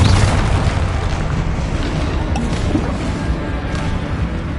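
A Confringo fire spell explosion in Hogwarts Legacy, heard as a continuous loud, dense booming blast that fills the whole stretch without any talk.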